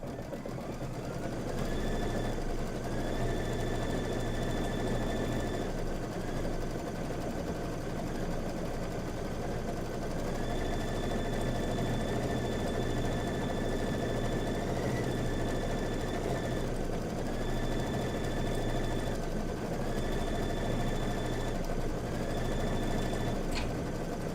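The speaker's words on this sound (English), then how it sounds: "Now it's going to just stitch the quilting." A Kimberbell embroidery machine stitches quilting on a table topper, a steady close mechanical whir that runs continuously with small shifts in pitch and pace as the needle moves, with no talking.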